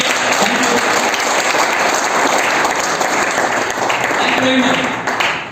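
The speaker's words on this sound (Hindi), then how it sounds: "एक बार जोरदार तालियां आपके करेंगे।" Loud, vigorous applause fills a business meeting hall, sustained and dense with faint crowd voices mixed in, tapering off slightly at the very end.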